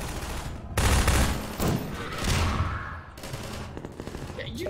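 Sustained bursts of automatic gunfire in a Half-Life 2 crossfire fight, loud and dense, with rapid shots overlapping in waves throughout and game noise mixed in.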